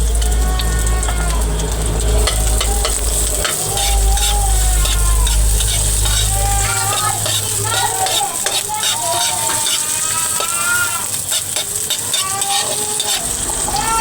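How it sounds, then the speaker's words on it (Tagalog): Chopped onions sauté in a pan while a dish of noodles with sardines and broth is cooked, giving a steady sizzle with scraping and stirring throughout, loud and close. "Ilunod-lunod natin yung sibuyas guys. Para mabango-bango na guys."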